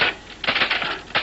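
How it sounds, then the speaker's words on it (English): An old mechanical typewriter typing in quick, close clacking keystrokes, several strikes in an irregular rhythm over about a second. "This is one of my father's old typewriters."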